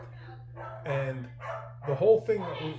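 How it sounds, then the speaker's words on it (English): A dog barks and yips several times nearby while a person keeps talking over it. "sorry about the dog barking"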